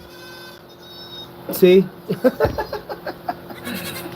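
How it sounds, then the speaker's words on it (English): A goat on a farm bleats close by in a short series of wavering calls, with a person's brief voice mixed in and steady background hum underneath. "Healthy goat, very healthy goat, very fat"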